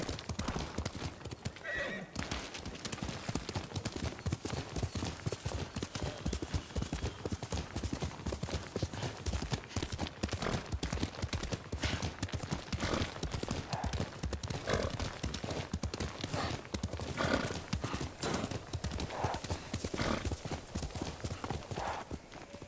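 Kage, a horse in Ghost of Tsushima, gallops in a steady rapid clip-clop of hooves that runs throughout, close and loud, with a neigh breaking in early on.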